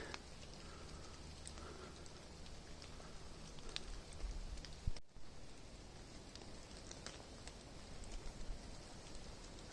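Steady rain patters through a foggy Carpathian forest in early spring with a soft rushing wash of wind, one brief thump midway, quiet and even throughout.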